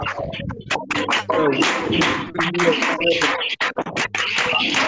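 Audience clapping in a large church-style gathering in Ghana, dense sustained applause with scattered cheering voices, loud and continuous throughout.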